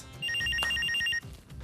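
A telephone rings with a rapid electronic trill of repeated short beeps, loud and close for about a second before cutting off, over a low background murmur.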